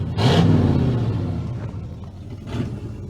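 A 1968 Ford F100 truck engine idles steadily nearby, a low rumbling drone with a slightly louder burst near the start and another brief rise later, with no talking.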